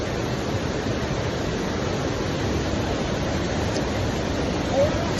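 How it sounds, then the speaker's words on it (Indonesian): Steady broadband roar of the Sialogo waterfall, a dense continuous wash of falling water heard close and loud throughout with no break. "Jadi kami hari ini lagi ada di air terjun Sialogo"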